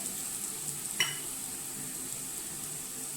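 Turmeric, chili powder, asafoetida and salt fry with ginger and garlic in a pan, making a soft, steady sizzle while being stirred, with one sharp clink of the spoon against the pan.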